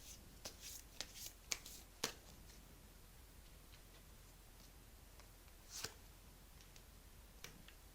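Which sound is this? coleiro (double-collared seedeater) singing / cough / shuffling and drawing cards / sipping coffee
shuffling and drawing cards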